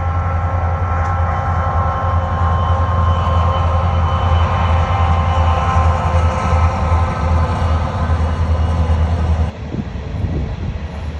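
A freight train of coke cars rolls past, a heavy continuous rumble with steady rattling of cars that drops off abruptly near the end as the train clears.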